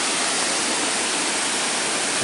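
Durian Perangin waterfall in the Langkawi jungle, Malaysia, roars as a dense, constant, full-band rush of falling water, loud and near, with no voices over it.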